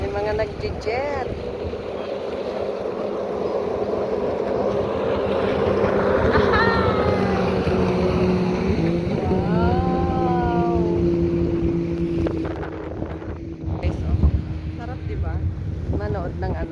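Jet skis riding on the sea, engine whine rising and falling as they pass at moderate distance, over steady wind noise on the microphone and surf, with people talking nearby.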